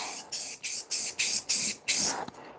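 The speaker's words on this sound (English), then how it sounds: "Proper spray paint technique" A spray paint can fires seven short, evenly spaced hissing bursts up close, with a lighter coat going onto a giant DIY hot cocoa mug and brief silences between each spray.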